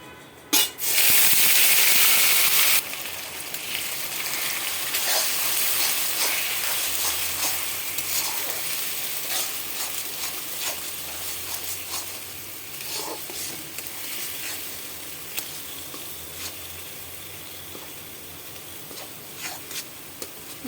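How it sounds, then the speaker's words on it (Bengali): Onion paste fries in a pan with continuous, soft sizzling and occasional stirring scrapes, starting with a brief loud burst as it hits the hot oil, then settling into a steady crackle. "পেঁয়াজটা ভাজা হয়ে গেছে"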